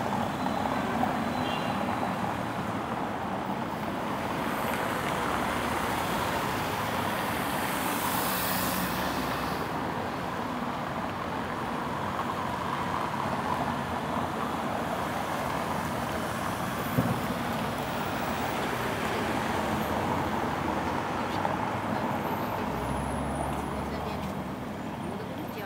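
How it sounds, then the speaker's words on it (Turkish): Continuous city traffic rumbles at Republic Square in Belgrade, with cars, trucks and buses passing in a dense, steady roar and occasional louder swells. "Burada trafik genelde hiç durmuyor."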